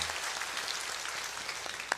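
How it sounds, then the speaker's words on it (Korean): Steady, dense clapping from a church congregation at a special dawn prayer service, a continuous wash of applause with no voices standing out. "감사와 영광의 박수 올려드립니다"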